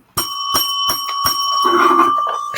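A broken bell gives several sharp, metallic rings in quick succession. They are close and loud and run into a sustained, ringing tone.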